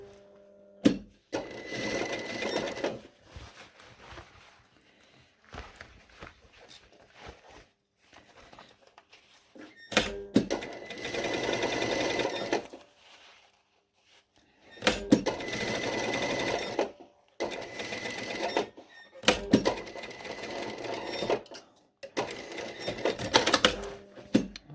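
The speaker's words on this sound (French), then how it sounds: "Je vais faire une piqûre, à 1 mm ou 2 mm" A sewing machine stitching a topstitch seam on the zipped fly of a pair of shorts, running in several sustained bursts separated by short pauses, close and steady, no speech.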